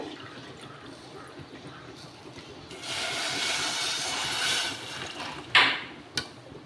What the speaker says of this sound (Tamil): இது கூடவே ஒரு கப் தண்ணி ஆட் பண்ணிக்கோங்க